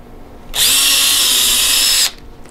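A power drill bores out a landing gear strut from an FMS V7.5 P-51 model plane, clamped in a vise, in one loud, steady burst of about one and a half seconds that stops abruptly.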